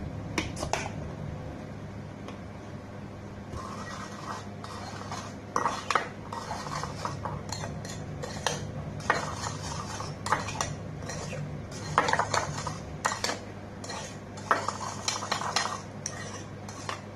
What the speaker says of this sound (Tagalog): mix lang natin itong 2 tablespoon brown sugar